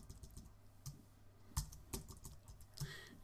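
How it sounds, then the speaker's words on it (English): Typing on a computer keyboard while writing Lua table code, close and clear, with bursts of quick key clicks and a few louder keystrokes in irregular rhythm, no talk. "I'll speed this up while I'm typing here for you."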